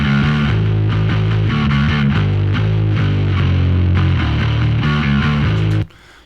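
Bass guitar with a clean DI signal layered with a Proco Rat distortion pedal run through an amp simulator, playing a loud, gritty riff of repeated low notes that stops abruptly near the end.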